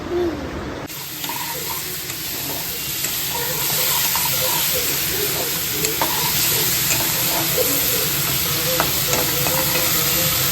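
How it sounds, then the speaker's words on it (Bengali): Luchi flatbreads deep-frying in hot oil in a home kitchen, a continuous bubbling sizzle with occasional scrapes, steady and fairly loud, with faint speech at times. "এখানে দেখতে পাচ্ছ আমার লুচিগুলো মোটামুটি ভাজা হয়ে গেছে"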